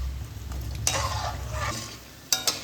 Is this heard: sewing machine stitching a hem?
no